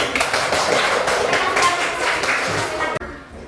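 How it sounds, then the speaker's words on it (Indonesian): Classmates in a school classroom clap their hands for a presenting group, a dense burst of close, fairly loud hand claps that runs steadily for about three seconds and then stops abruptly. "kita tepuk tangan untuk kelompok 1 dulu"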